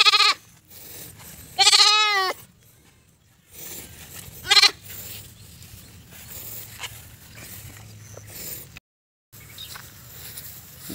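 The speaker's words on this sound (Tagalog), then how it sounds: "Yung ating nabili nga kambing" A newly bought male goat bleats loudly several times in short, wavering calls, with quieter bleats and faint farmyard rustling between them and a brief silent gap near the end.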